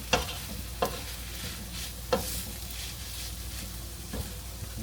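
Philly cheesesteak meat and cheese sizzle steadily on a hot griddle, the constant frying hiss broken by several sharp scraping clacks of a spatula stirring and chopping, close and with no voices.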